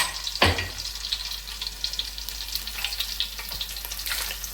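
Crushed garlic hits hot oil for a mushroom curry with a brief thump, then a steady, fairly loud broadband sizzle hisses on alone for several seconds.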